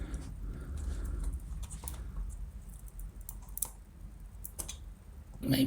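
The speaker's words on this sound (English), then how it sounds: "Nice clicks there going on." Small plastic parts clicking and snapping into place while a MicroBeast kit is assembled: a scatter of close, light, irregular clicks and taps over a quiet background.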